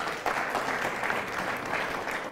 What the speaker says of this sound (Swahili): Pigia Teres makofi